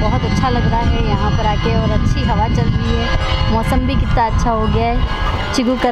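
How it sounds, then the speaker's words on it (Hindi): Temple bells ring repeatedly in the background at the Sarangpur Kashtbhanjan Hanuman temple while someone talks continuously over them, with outdoor ambience throughout. "ये है मंदिर का बैक साइड जैसे कि आपको घंटियाँ सुनाई दे रही होंगी"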